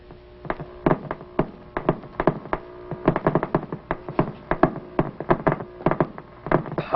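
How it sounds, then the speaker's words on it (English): Irregular sharp clicks pop from a cosmic ray detector against a faint electrical hum, coming in uneven bursts, sometimes clustered, sometimes spaced apart. "What you are hearing are actual cosmic ray bullets."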